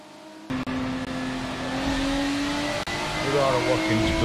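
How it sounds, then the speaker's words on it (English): Race car on a lap of the Watkins Glen track in New York State, engine droning steadily and close after a sudden start, pitch rising and falling through gear changes and building toward the end. "We are at Watkins Glen, so we're now going to do a lap of the track."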